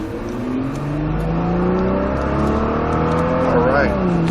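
Nissan GT-R race car rolling out onto a track, its engine droning steadily with rising and shifting tones as it pulls away, heard close up with people talking over it.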